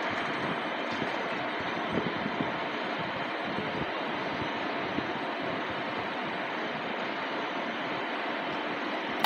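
An Intercity train departs Kraków Główny station with a steady, broad rumbling roar of rolling wheels and engine noise that holds at an even level throughout.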